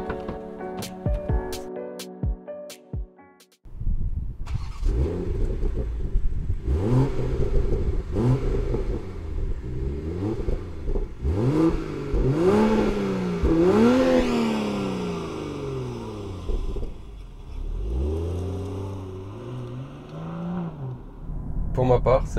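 A 2022 BMW M240i xDrive engine fires up and the car pulls away, revving through gears with rising and falling engine pitch under an in-cabin recording.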